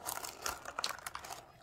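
Dense crinkly crunching and crackling up close, in irregular bursts as a soft, crunchy fidget toy is squeezed repeatedly.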